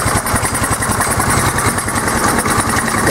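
A buggy's small engine runs on and won't shut off, a loud, close, steady rattling idle with a fast regular pulse and no let-up.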